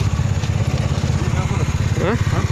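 A motorcycle engine runs steadily close by with a throbbing low rumble on a sandy path near mangroves, with a voice speaking briefly over it.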